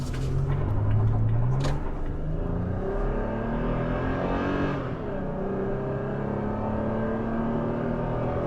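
A 2022 Toyota Tacoma TRD Pro midsize pickup accelerating, its engine and gear-hunting transmission droning loudly up through rising revs, easing at a shift around the middle, then pulling steadily again with a constant road whir.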